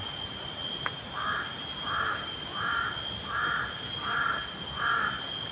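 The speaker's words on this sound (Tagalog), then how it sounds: "Uwak ba?" Crows caw outdoors in a slow, even series of about six calls, moderately distant, over a steady background hiss and hum, with no talk.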